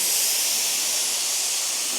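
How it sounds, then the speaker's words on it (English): A paint spray gun sprays Dakota black paint onto an abandoned 1977 Dodge at high pressure, giving a steady, loud, continuous airy hiss that runs unbroken and alone. "This stuff doesn't spray very good."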